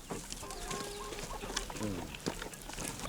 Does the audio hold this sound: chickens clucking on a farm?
yes